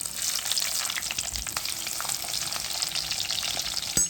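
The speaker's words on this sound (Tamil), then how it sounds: "இப்போ நம்ம வெங்காயத்தை போட்டுடலாம்." Onions fry in hot oil with fenugreek in a pan, giving a steady, close crackling sizzle with scattered pops and a brief stirring scrape near the end, no talking.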